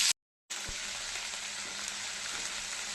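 Ginger paste and whole cumin dropped into hot oil, a steady bright sizzle that starts after a brief silence and carries on evenly, close and fairly soft.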